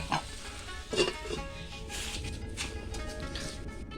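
A spoon stirs taro and pangas fish curry in a pan, giving a few soft scraping knocks early on over a steady low bubbling sizzle, close and fairly quiet.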